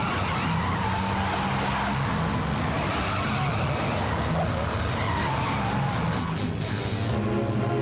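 Car tires skid and squeal continuously in a Hindi action chase scene, loud and close with engine roar throughout, no talk heard.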